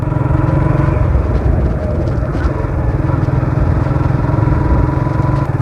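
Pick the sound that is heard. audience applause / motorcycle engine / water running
motorcycle engine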